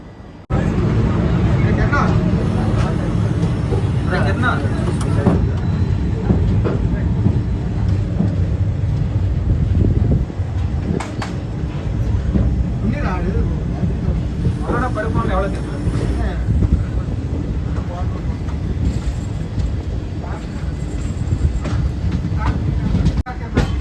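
Nilgiri Superfast Express pulling out of Chennai at night, a loud continuous rumble with wheel clatter and occasional knocks, heard from inside the train with passengers chatting throughout.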